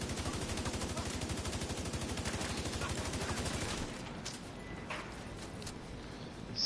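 Rapid automatic gunfire in the video game The Division, a dense loud burst of shots lasting several seconds before cutting off, followed by a few scattered quieter impacts.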